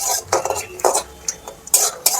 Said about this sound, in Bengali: মিডিয়াম আঁচে এটাকে একটু আস্তে আস্তে সময় ধরে ভেজে নিতে হবে